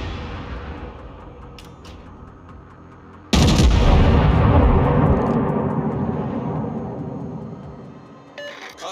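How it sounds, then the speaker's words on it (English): A warship in World of Warships fires its main artillery, a sudden loud booming salvo that rolls and slowly decays over several seconds after a quieter rumbling lead-in, with no talk. "Concentrate fire on the enemy warship."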